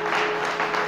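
A church congregation breaks into a short burst of dense, continuous clapping, heard from within the crowd, with no voices standing out.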